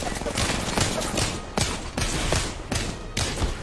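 Rapid gunfire from a shooter video game, a dense stream of sharp repeated shots with a few stronger cracks, loud and continuous.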